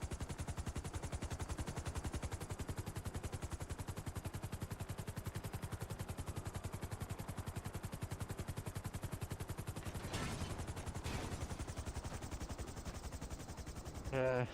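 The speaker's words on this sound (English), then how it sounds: "There'll be shots at PD." Rapid, sustained automatic gunfire rattles continuously in a Grand Theft Auto roleplay scene at a police station, loud and dense throughout with a brief burst of extra noise near the end; voices are faint underneath.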